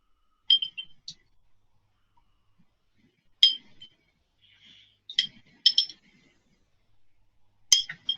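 A small glass jar of beans clinks sharply several times as it is handled, with bright, isolated taps spaced irregularly against near silence.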